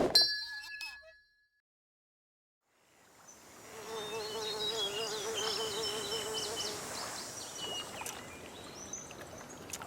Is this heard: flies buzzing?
yes